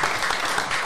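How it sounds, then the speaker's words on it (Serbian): An audience at a live Partizan fan show bursts into applause, a dense, steady clapping that fills the whole short stretch at even loudness with no talk over it. "Aplauz za Mišića"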